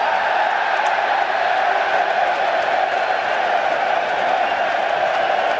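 A cricket crowd roars steadily at a bowler, a dense, loud wash of cheering and jeering voices that stays constant throughout with no pauses.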